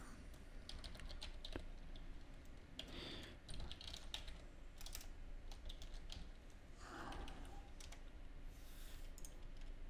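Rapid keystrokes on a computer keyboard as an email address is entered, crisp close clicks in uneven bursts over a steady low background hum.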